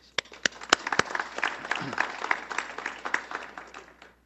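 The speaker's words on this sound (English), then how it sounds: "So please give her a big round of applause." Round of applause from a morning business-council education summit audience in Tempe, with dense clapping that builds and holds steadily for several seconds, then tapers off toward the end.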